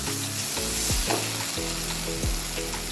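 Boiled chickpeas tumbling into hot, shimmering oil, then a steady sizzle and frying crackle as they are stirred, with a few scraping strokes of a spoon.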